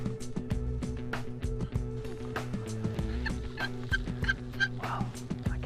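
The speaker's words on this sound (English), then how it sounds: "2 big gobblers, Ron." Several wild turkey gobblers call in Kansas, their rapid rattling gobbles repeating and overlapping at mid distance, with a dense rhythmic clucking texture throughout and no speech.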